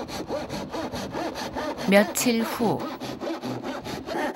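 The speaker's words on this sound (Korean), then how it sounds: "아파트 앞 놀이터에서 톱질을 하고 있다" A hand saw cuts wood outdoors at a playground in front of an apartment building, where a wooden step is being built; rhythmic back-and-forth strokes repeat steadily and close, with brief speech over them.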